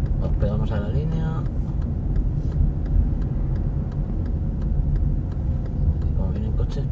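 Car driving along a driving-test route in Móstoles, turning left, with a steady low engine and road rumble from inside the cabin and faint voices now and then.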